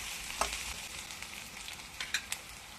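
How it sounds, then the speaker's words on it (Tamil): Onions fry in oil toward golden brown with a soft, continuous sizzle and a few light stirring clicks, fairly quiet. "வெங்காயம் நல்லா வதங்கட்டோங்க. வெங்காயம் நல்லா கோல்டன் ப்ரௌனாக வரணுங்க."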